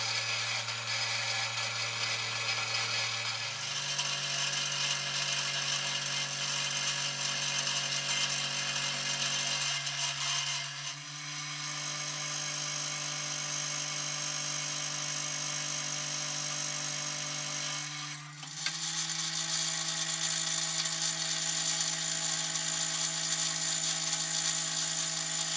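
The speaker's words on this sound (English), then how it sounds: "This is the time to dress up all the corners by milling a 1mm by 45 degree chamfer over all edges and corners." A milling machine cuts a 1 mm by 45 degree chamfer along the edges and corners of steel Dickson-style tool holders, a steady loud motor whine with the pitch shifting in distinct steps as the cut changes.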